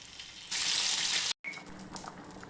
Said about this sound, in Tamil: மீன் குழம்பு நல்லா கொதிக்கட்டும்